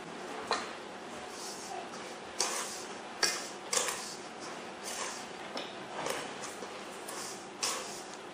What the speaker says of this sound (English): Now we're just going to mix them together.